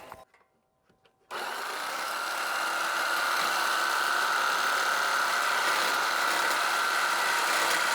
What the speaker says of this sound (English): Swapped over to a longer blade to make it easier. So let's cut that and get this last piece pulled out.